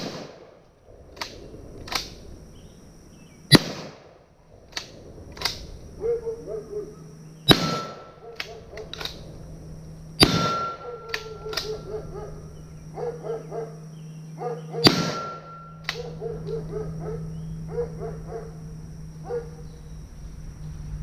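An RIA VRPA40 12 gauge shotgun fires four loud, sharp blasts at an outdoor range, spaced several seconds apart, with smaller clicks, clatter and background range noise in between.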